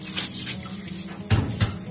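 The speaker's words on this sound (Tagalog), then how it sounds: "Hugasan ko na po yung kanina at aking isasaing." Tap water runs into a pot as rice is rinsed before cooking for biko, a steady close splash with two brief louder gushes near the end.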